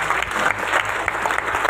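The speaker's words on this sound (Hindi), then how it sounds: "जोरदार तालियां," Audience applause at a motivational business coaching event, with steady dense clapping from a crowd throughout, moderately loud and close.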